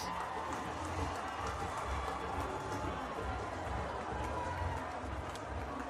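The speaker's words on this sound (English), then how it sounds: "This crowd is going crazy." A large stadium crowd at a West Indies versus England T20 cricket match roars in a steady, distant wash of cheering and noise that holds throughout without a break.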